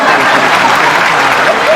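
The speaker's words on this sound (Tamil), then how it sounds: "எல்லாரும் கைத்தட்டல் கொடுத்துடலாம்" An audience breaks into loud, continuous applause, close and steady throughout the short burst, with crowd murmur blended underneath.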